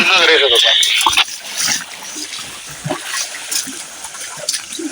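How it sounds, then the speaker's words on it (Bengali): Rushing waterfall water splashes steadily in a reserve forest, loud at first and then settling into a softer continuous flow with scattered drips and splashes. "এখন ঝর্ণার পানি, অনেক সুন্দর পরিবেশ।"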